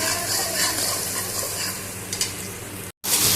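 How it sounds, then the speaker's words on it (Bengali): Chopped ginger and garlic frying in oil with fennel and cumin seeds, a constant close sizzle with light stirring and a brief clink before a short cut in the sound. "দিয়ে এতে আদা আর রসুন কুচিটা দিয়েছি, দিয়ে একটু ভালো করে ভেজে নিচ্ছি।"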